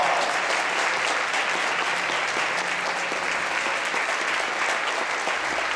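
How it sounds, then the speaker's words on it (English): An audience at a 2015 orchestra concert gives a big, sustained round of applause, thick, even clapping filling the hall without a break. "Let's give him a big round of applause."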